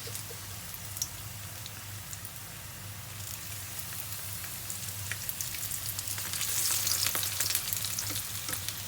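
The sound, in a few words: quail egg wontons deep frying in oil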